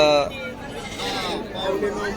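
Sheep at the Kashti livestock market bleat several times amid general crowd babble and people talking, moderately close.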